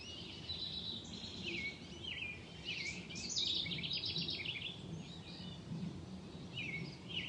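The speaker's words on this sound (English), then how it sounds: "Hear the birds cheering you on, singing for your tree." Birds chirp and trill at a distance, scattered calls over a soft, steady outdoor hush with no one speaking.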